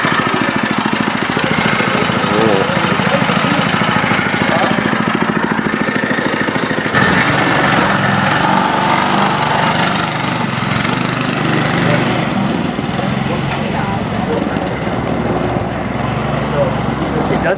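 A Studebaker chassis on a test drive runs its engine steadily throughout, a continuous mid-pitched drone that stays loud from start to finish while people talk over it.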